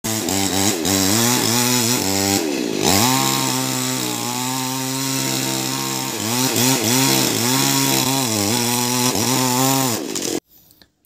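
Chainsaw cutting trees during land clearing on a farm, loud and close, the engine revving up and bogging down repeatedly as it bites into wood, then cutting off abruptly near the end.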